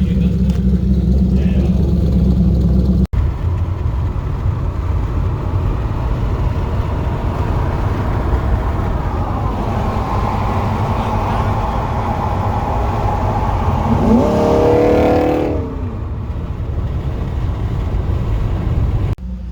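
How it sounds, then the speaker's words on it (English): Corvette engine with an aftermarket exhaust, a loud low rumble at idle that rises through a sweeping rev near the end, with people talking over it. "Now that's some exhaust right there. Yeah, I think so. I think he put like aftermarket on it."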